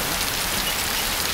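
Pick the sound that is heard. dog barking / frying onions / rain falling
rain falling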